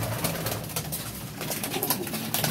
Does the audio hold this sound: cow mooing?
no